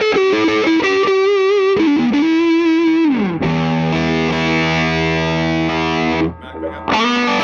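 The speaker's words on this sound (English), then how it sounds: "Here's a front pickup." Fender Custom Shop La Cabronita Especial electric guitar on its front pickup, played through distortion and effects, with loud sustained chords and bending notes that slide down into a deep held tone, ending in a brief drop and restart.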